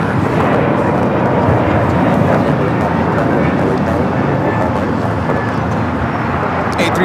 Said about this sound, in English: A321neo taking off to Denver, Colorado, United Airlines